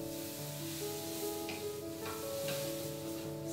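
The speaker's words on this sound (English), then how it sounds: "Add 1 cup of semolina and stir well on a low heat." Semolina is stirred in hot oil in a pan over low heat, giving a soft continuous sizzle with gentle scraping strokes from the stirring, close and fairly quiet, with no voices.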